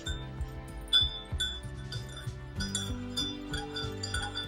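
A spoon stirs a sugar-free real cocoa drink in a glass, giving light, irregular clinks and taps close by over a quiet, slightly tonal background, with no one speaking.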